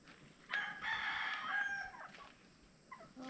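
A single rooster crows once, fairly close, with a drawn-out call lasting over a second that trails off. A few faint clucks follow afterward.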